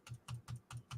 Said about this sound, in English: You hear that clicking?